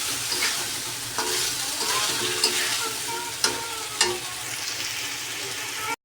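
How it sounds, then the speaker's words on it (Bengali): Potatoes and meat sautéing in a pan, a loud continuous sizzle with irregular scraping and clacking from a stirring spoon, no voices. "এর মধ্যে আমি দিয়ে দেবো আলুগুলোকে, আলু দিয়ে এখন কষাবো"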